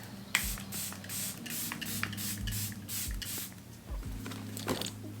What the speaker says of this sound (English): Going to spray my skin